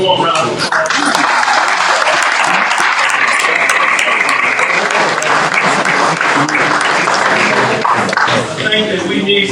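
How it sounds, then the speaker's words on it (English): An audience at a memorial service breaks into loud, sustained applause, dense rapid clapping from many hands close by, with cheers and voices mixed into the crowd noise throughout. "give him a warm round of applause"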